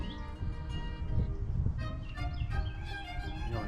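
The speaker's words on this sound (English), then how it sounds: "enjoying the sounds of the birds" Birds chirp and twitter in a quiet, peaceful outdoor spot, several soft calls repeating near and far over a faint background hum.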